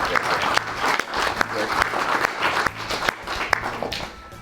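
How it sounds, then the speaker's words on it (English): A crowd at a Michigan waterski hall of fame induction gives a round of applause for a waterski athlete, uneven clapping with a few sharp louder claps, steady throughout and slightly mixed with voices. "All right, that deserves a round of applause."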